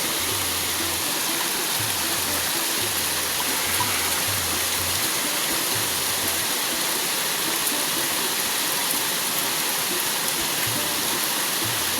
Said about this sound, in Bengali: যা একটু বৃষ্টিটা হচ্ছে